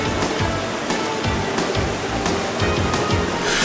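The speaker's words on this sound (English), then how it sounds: "Secure wooden pathways lead through the area and make it possible to approach the waterfalls at close quarters." Kösünlü waterfall, where water plunges down in levels, makes a loud, continuous rushing roar heard up close from a wooden pathway. No one speaks over it.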